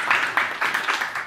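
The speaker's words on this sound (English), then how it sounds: "Please sit down and class clap for all." A class of young primary-school children claps together in a classroom, a brief burst of rhythmic group clapping in several quick pulses.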